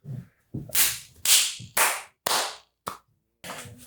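Hands clapping slowly to imitate a movie audience applauding at the end of a film, about seven loud, close, separate claps in an uneven rhythm with brief silences between them.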